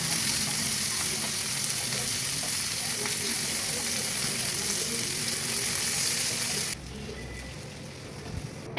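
Koi fish frying in mustard oil in a frying pan gives a dense, steady close-up sizzle and crackle that drops suddenly to a quieter hiss near the end.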